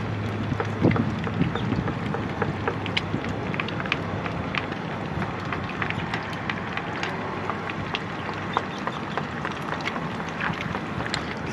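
Steady wind gusting outdoors beside a river, a continuous broadband rush with no voices.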